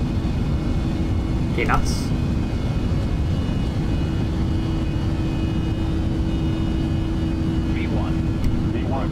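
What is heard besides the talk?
airliner engines at takeoff thrust, Prepar3d flight simulator video game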